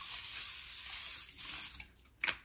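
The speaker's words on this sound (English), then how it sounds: "I've also been using this Evian facial spray" An Evian facial spray mist hissing in a steady fine spray for over a second, followed by a short second burst, close and fairly quiet.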